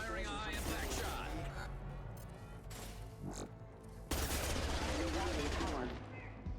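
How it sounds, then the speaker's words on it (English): Gunfire from a high impact shot in Mass Effect 2, Legendary Edition, a dense burst of shots with a louder blast near the end, amid a busy battle soundscape with voices throughout. "Firing a high impact shot."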